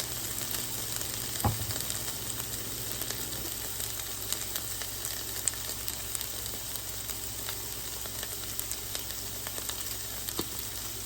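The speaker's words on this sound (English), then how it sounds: "Mix that all together, all of your seasonings." Seasoned potatoes and onion sizzle steadily in a skillet while being mixed, a constant close frying hiss with occasional light scrapes and a single sharper knock near the start.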